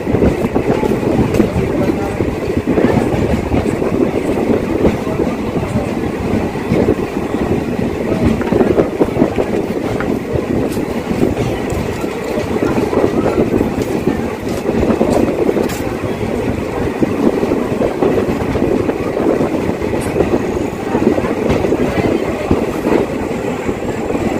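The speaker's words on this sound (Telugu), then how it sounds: "రాజంపేట రైల్వే స్టేషన్ డిపార్చర్ చూడండి." Venkatadri Express pulling out of Rajampet railway station, a loud continuous rumble with rhythmic clattering of wheels over rail joints heard from inside the carriage, steady throughout.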